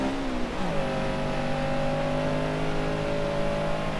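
A slow car in Forza Horizon 3 revs hard, engine pitch dropping briefly as it shifts then holding a steady loud drone, close and alone.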